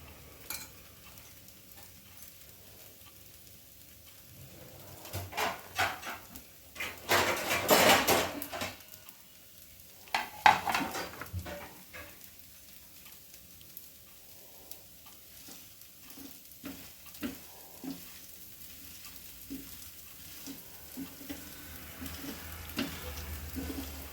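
Jowar dosa batter cooks on a pan with oil poured over it, giving a soft sizzle under sporadic scraping and clinking of a utensil against the pan, with a louder burst of frying partway through.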